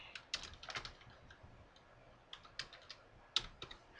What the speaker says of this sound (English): Let me type that.